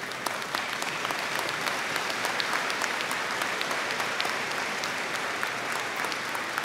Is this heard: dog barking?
no